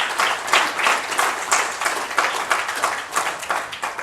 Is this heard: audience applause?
yes